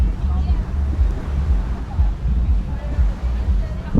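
Strong wind buffets the microphone on Pattaya beach during a busy kite festival, with rumbling gusts and surf-like wash over a faint hubbub of crowd voices.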